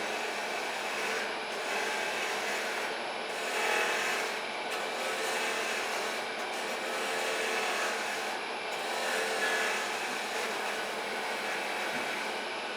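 A gouge shaping and rounding over the edges of a wooden workpiece gives a steady, continuous scraping rasp that swells and eases in slow passes, fairly faint and alone with no talk.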